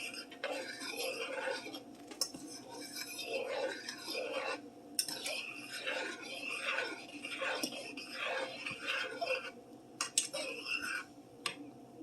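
Eggs being stirred and scrambled in a pan make soft, repeated scraping and clinking sounds from a utensil against the pan. They are quiet and irregular, and faint murmured voices can be heard in the background.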